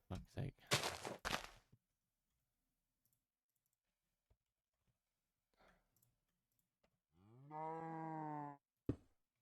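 Cartoonish cow moo from a block-building video game, one sustained harmonic call near the end, preceded by a burst of loud clicking and a few faint taps, with no talk.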